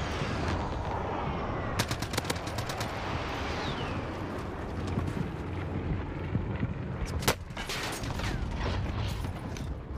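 Gunfire in Call of Duty Warzone: bursts of rapid shots crackle through a dense, noisy game mix, with sharp individual cracks standing out over steady background rumble.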